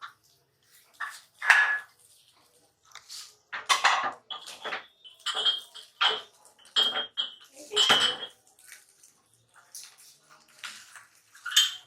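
Chicken fried rice being mixed in a pan, with a series of scraping, clattering utensil strokes against metal, fairly close and at an irregular pace, with no talk over them.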